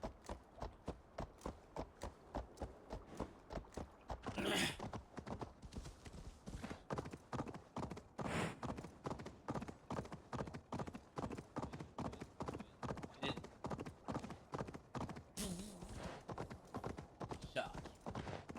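Horse hooves galloping in Assassin's Creed Valhalla, a steady, close, rhythmic clip-clop running throughout, with a few louder bursts of game sound and voices talking in places.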